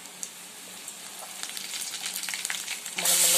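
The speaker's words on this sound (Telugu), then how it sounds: "ఆయిల్ వేడైన తర్వాత పోపు దూసులు కరివేపాకు" Mustard seeds and curry leaves tempering in hot oil, a soft crackle and sizzle that builds with scattered pops before bursting into a loud, dense hiss as more goes into the pan; no talking.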